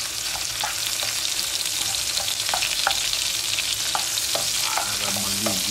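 Pork is sautéed with onion and garlic in a hot pan. A loud continuous frying sizzle runs underneath while a spatula scrapes and stirs in irregular clinking strokes close by, with no talk.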